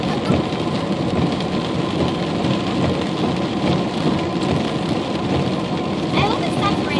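Heavy, steady rain pours down during a Fourth of July flood in Panama City, Florida, a dense continuous hiss with thunder rumbling underneath and faint voices in the background.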